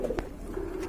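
Pigeons in a market pen coo in a soft, low murmur with a faint burst of noise partway through, no voices over it.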